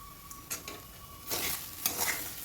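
Grated potato mixed with peanut powder is stirred in a frying pan, giving a soft, close sizzle and a few brief scraping strokes over about two seconds.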